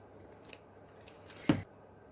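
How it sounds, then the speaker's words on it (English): Scissors snip through paper while trimming the end of a folded envelope pocket for a junk journal, a few faint cuts followed by one sharp, close snip, with no talking. "Trim off that end."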